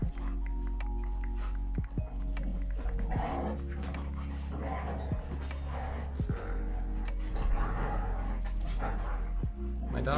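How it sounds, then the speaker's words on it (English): Several dogs panting, whimpering and yapping as they play rowdily indoors, close by, with a low steady hum underneath and occasional thumps of movement. "My dogs are having a mosh pit behind me, throwing a goddamn party."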